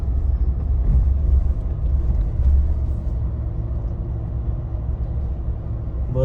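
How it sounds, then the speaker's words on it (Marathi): Close, continuous low rumble of a car engine and tyres as the vehicle drives up to park at the top near the Shikhar Shingnapur temple; no talking. "आम्ही गाडी टॉपला पार्क करणार आहोत"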